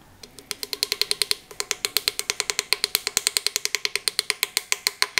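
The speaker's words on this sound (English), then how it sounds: "Install the oil pump lip seal using a nylon hammer." Light, steady taps from a nylon hammer drive an oil pump lip seal into a YD25 engine. Dozens of crisp, evenly spaced hits come in a quick rhythm, close and moderately quiet.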